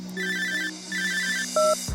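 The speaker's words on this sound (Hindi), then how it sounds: "इतना टाइम क्यों लगाया फोन उठाने में?" Mobile phone ringing with a simple electronic ringtone, two trilling bursts followed by a brief higher beep, steady and close over a low hum.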